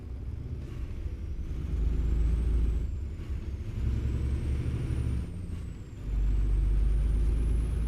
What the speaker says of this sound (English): Is the sound on the game too low since I switched to that other engine